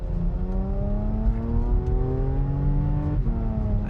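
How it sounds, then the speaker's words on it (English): A Porsche Macan S twin-turbo V6 with PDK transmission pulls hard, its exhaust note rising steadily in pitch through the gears with a smooth climbing drone, close and loud. "it's actually a good exhaust note out of the twin turbo V6"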